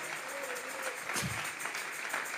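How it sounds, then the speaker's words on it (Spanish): Church congregation applauding as an offering of praise, a steady wash of clapping held at a constant level throughout, with a faint tone lingering underneath. "Regálele ofrenda de palmas al Dios de la gloria."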